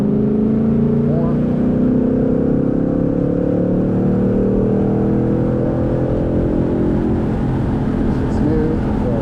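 A Ford Mustang Mach 1 drones loudly from inside the cabin as it accelerates out of a corner on a race track, a steady rising engine note with faint talk beneath it.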